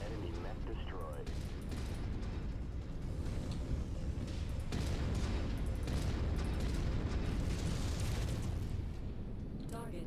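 An enemy mech explodes in a video game amid continuous battle noise, with heavy rumbling blasts and booms over steady gunfire, loud and dense throughout, while voices are faintly present.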